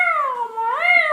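A cartoon cat gives a single drawn-out meow, loud and close, its pitch sliding down and then rising again at the end, heard alone with no talk.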